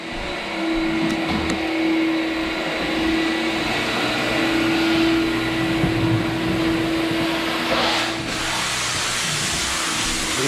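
A vacuum cleaner runs steadily over a hardwood floor being refinished, a loud continuous whine and rush with a low hum that holds throughout, alone without talk.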